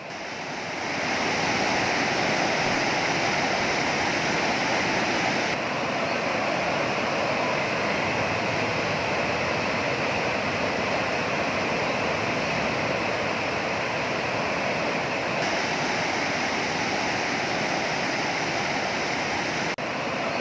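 Fast-flowing floodwater of the Yamuna river in Uttarkashi, Uttarakhand, a loud, steady, unbroken roar of rushing water that fills the whole stretch without pause.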